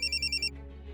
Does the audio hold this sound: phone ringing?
yes